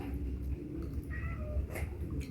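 A neighbor's cat that grew up around the house lets out a short meow and a brief yowl, softly, over steady low background noise.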